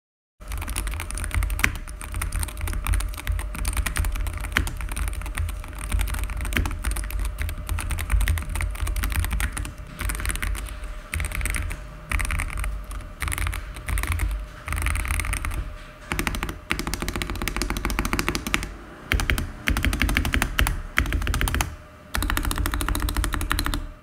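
Rapid, continuous typing on a SteelSeries Apex Pro TKL Gen 3 wireless Hall-effect gaming keyboard with silicone dampening pads, dense close-up keystrokes clattering steadily for the whole stretch with brief pauses near the end.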